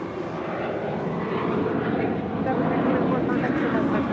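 Jet airliner taking off from runway 25 right at LAX, a broad steady engine roar that swells slightly, heard from some distance, with voices talking over it.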